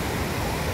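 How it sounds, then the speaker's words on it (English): Floodwater rushes during heavy rain, flooding a hospital area and a park, as a dense, continuous roar close by with no voices. "Look at the water flowing."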